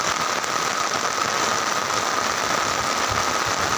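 Rain falls on the long Surma bridge while a vehicle engine idles nearby, making a constant dense hiss over a low, steady engine drone.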